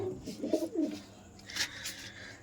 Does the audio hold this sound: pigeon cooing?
yes